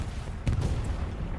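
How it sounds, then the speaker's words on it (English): An explosion in the World War II shooter Hell Let Loose: a single dull, booming blast bursts out briefly, then fades into a low, rumbling battlefield background. "And another explosion."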